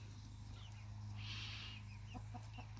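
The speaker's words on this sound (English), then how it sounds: "Lots of little chicks." Soft clucking and chirping from chickens and little chicks sits over a low steady hum, faint and close, with a short rustling burst midway.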